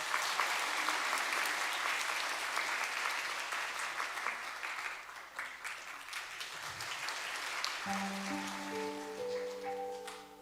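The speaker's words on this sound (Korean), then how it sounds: "우리 박수로 모시겠습니다" A congregation claps steadily to welcome a speaker forward during a Sunday worship service at a Korean church, sustained applause that fades slightly as piano chords begin near the end.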